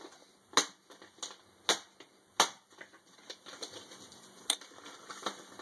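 A serrated Spyderco Manix 2 knife slices through a plasticized bubble envelope with two layers of bubble wrap, giving sharp crackling pops and snaps in an uneven burst, close and fairly loud, with no talking.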